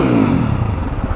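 A second-hand motorcycle with only 3,000 km on it revs steadily up close, a loud, continuous low engine drone with slight clatter and no talk.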